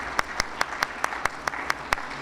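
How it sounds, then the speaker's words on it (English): Clapping for Westlake Council of PTA president Lola Wenham at a Founders Day event: sharp, evenly spaced claps about five per second, close and fairly loud, with no voices. "So we're going to give her a round of applause as well."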